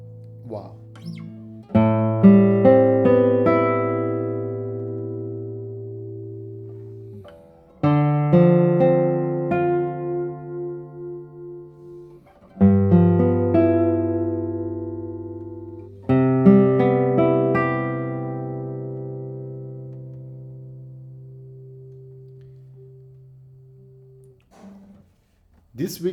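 A luthier's 2021 traditional guitar plays four unhurried phrases. Each opens with a rolled or strummed chord and quick notes, then rings and fades, before a short voice at the very end.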